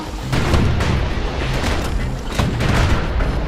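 Guns on a security skiff fire in the game Bastion, a dense, loud barrage of booming shots that rolls on continuously.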